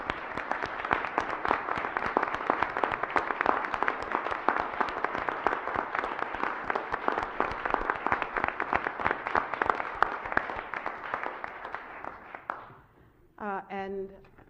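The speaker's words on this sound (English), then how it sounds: "we give all of our public safety officials within our city a round of applause" Sustained, dense clapping from the audience at a city council meeting, honoring the city's public safety officials, runs steadily for about twelve seconds before fading as a voice resumes.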